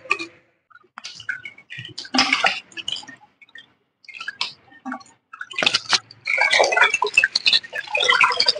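Water splashing over two kilograms of raw chicken being washed by hand, close bursts of pouring, sloshing and squishing with short pauses between, no talking.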